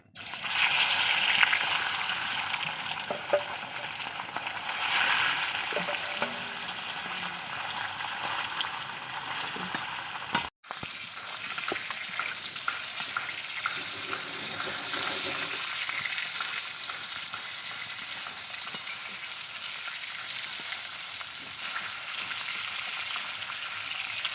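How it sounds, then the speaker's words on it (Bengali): Fish fries in hot oil for a raw-banana and potato fish curry, with a loud, continuous crackling sizzle and intermittent spatters. It breaks off for an instant partway through, then resumes just as strongly. "তেলটাও গরম হয়ে গেছে আমি এবার মাছটা ভেজে নিচ্ছি"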